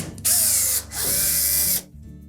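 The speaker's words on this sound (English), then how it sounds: "you'll need to remove 2 screws located on the back edge of that top panel" A power drill backs Phillips head screws out of the back edge of a Samsung dryer top panel. Two close, loud whirring bursts with a short pause between them, each spinning up and winding down.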